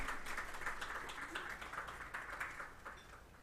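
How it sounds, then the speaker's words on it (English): Faint applause from an audience at a youth ideas summit in Belize, greeting the Honorable Francis Fonseca with a soft, steady patter of clapping heard from a distance for a few seconds. "Can we please give a round of applause for him?"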